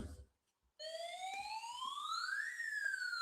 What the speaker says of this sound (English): We're sounding the siren.